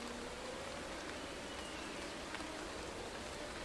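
Steady rain in the Motorsport Manager racing game, a dense, even hiss of falling drops that holds constant from start to finish with no talking.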